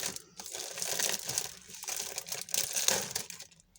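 Plastic wrapping on a Hot Wheels magazine pack is torn and crinkled open by hand, a close, soft run of crackling and rustling with short pauses, no voices.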